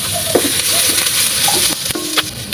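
Onion and garlic sauteing in hot cooking oil in a pan, with a steady loud sizzle and a few stirring scrapes and knocks close by, no voices.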